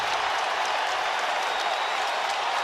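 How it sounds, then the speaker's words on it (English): A basketball arena crowd at Rupp Arena during a Kentucky game roars and applauds in a dense, continuous wall of cheering that stays loud and steady throughout. "Crowd on its feet at Rupp."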